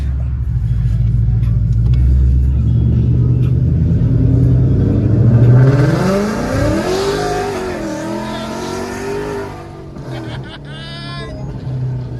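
An 850hp ProCharger-supercharged Ford Mustang 5.0 V8 with long tube headers and straight pipes rumbles and revs up hard, pitch climbing through a loud pull, then drops away as the car moves off, with brief voices near the end.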